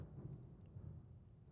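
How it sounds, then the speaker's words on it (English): A distant, low rumble like thunder or a far-off firework rolls briefly and faintly, a dull boom with no sharp crack and no voices over it. "Was that thunder or firework?"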